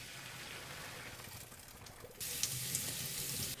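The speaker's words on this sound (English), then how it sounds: "you do want to quickly rinse the farro with cool water just to make sure it doesn't stick" Cool tap water runs steadily over cooked farro being rinsed in a kitchen, a continuous hiss that turns brighter and louder partway through as the stream shifts, with no talking.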